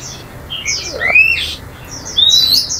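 A tiểu mi songbird sings close and loud: a few bright whistled phrases with sliding notes, a pause, then another clear phrase over quiet background.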